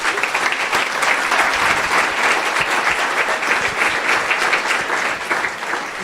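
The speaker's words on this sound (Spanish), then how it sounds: "fuerte el aplauso al Rey." Loud, sustained applause from a church congregation, a thick unbroken roar of many hands clapping at steady volume from start to finish.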